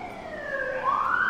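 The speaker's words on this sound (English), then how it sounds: "We're going to wait for the sirens to go by." Police sirens pass by at a distance, their wailing tone sweeping up and down and growing somewhat louder toward the end, with no talk over them.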